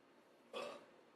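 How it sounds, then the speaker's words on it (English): A single short off-screen burp, faint and slightly distant, rising out of quiet room tone for about a quarter second. "You can't do off-screen burps."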